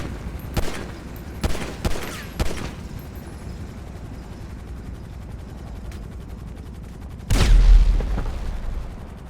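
Missiles on an aircraft carrier in GTA 5 blowing up in a string of sharp, booming blasts, three close together at the start, then a lone faint pop and one heavy, rumbling explosion near the end that slowly dies away.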